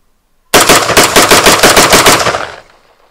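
A rifle fitted with a Franklin Armory binary trigger fires a rapid string of about a dozen loud, close, evenly paced shots that cut off abruptly and leave a short fading echo, with no talking.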